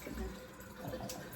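Water running from a tap into a sink to soak dishcloths, a brief, soft, steady hiss and splash heard close up.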